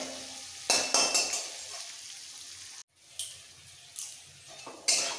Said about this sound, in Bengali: উচ্ছেগুলোকে এবার ভালো করে একদম লাল করে ভেজে নেবো কড়া করে